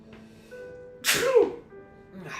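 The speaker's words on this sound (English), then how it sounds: "There's that sneeze I was trying for." A sharp, loud sneeze bursts out mid-clip, with murmured talk and faint background sounds before and after it.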